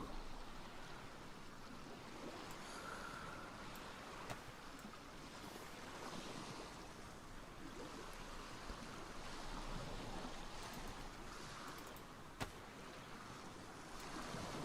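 Continuous rushing, wave-like water with wind noise in DayZ, as a character swims through icy water on Namalsk; broad and steady throughout with a couple of brief clicks and no voices.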